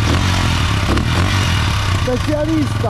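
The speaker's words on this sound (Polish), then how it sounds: "pierwsze odpalenie KTM-a na kanale Black Opso" A KTM motorcycle engine started for the first time, a loud rough steady running drone close by, with people talking and exclaiming over it.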